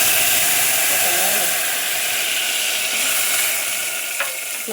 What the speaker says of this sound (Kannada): ಸೌಂಡ್ ಬರುತ್ತೆ ಅಲ್ವಾ, ಒಗ್ಗರಣೆ ಹಾಕಿದ ಸೌಂಡು.